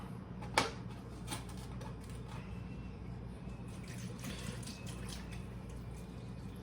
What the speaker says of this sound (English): We're gonna add a little bit of milk.